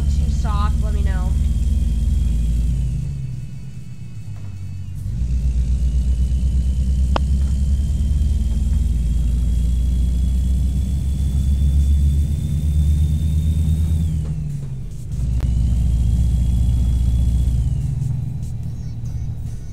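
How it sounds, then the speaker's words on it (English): A Kenworth truck engine rumbles loud and close, rising in revs and holding them, easing off twice and building again, with someone talking over it at times. "Kenworths really love the rev"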